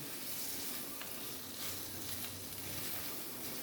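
Coriander leaves and stems frying in a tomato chutney mixture, giving a steady, even sizzle close by with no talking.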